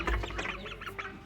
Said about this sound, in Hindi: देखें दोस्तों ये हैं हमारी डक्स